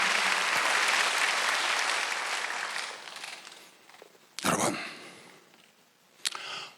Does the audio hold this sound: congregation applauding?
yes